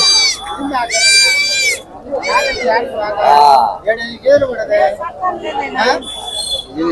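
Goats bleat repeatedly and loudly nearby, their calls overlapping with people talking and haggling over prices at the busy outdoor Jammalamadugu weekly market.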